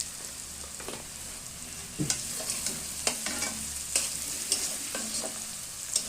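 Chili powder and cumin powder are stirred into hot oil with ginger and garlic in a frying pan, giving a steady close sizzle broken by repeated scraping strokes of the spoon.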